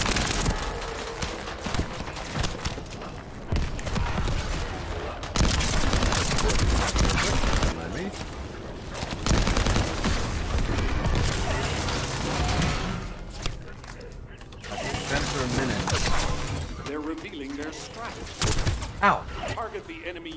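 Enemy gunfire aimed at the player in a shooter game comes as bursts of rapid shots and thuds. A voice talks over much of it.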